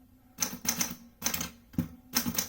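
A 1941 Smith Corona Sterling manual typewriter types in quick bursts of crisp key strikes, close and clear with short pauses between runs.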